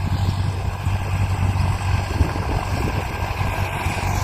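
A tractor approaches across farm fields beside a large orchard plot, its engine a steady, loud, low drone that holds evenly throughout with no voices.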